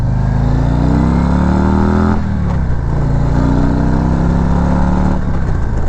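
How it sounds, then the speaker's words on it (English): A Harley-Davidson CVO Street Glide pulls hard from 20 mph under a throttle roll-on, its loud engine note rising in pitch, easing after a gear change, then climbing again, close and without talk. "I'm just gonna roll on the throttle to see how her pickup is."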